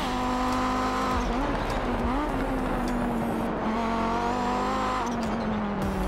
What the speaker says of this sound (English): drives even better than it sounds, which is saying a lot when you hear the turbo chirp